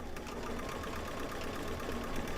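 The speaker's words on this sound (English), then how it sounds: "Now it's gonna stitch." A sewing machine running zigzag stitches on a Christmas deer mug rug, a steady fast mechanical whir and chatter that holds at an even level throughout, with no voices.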